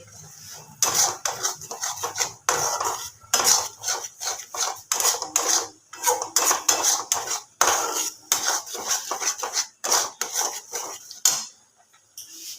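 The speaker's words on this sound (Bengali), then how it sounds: "কড়াইশুটির মানে ওই বাটাটা নাড়তে নাড়তে দেখুন সাইডে কিন্তু ফুটতে শুরু করে দিয়েছে" Green pea paste is stirred in a wok for kachori filling, producing repeated scraping and rubbing strokes of a spatula against the metal in an uneven rhythm, close and fairly loud.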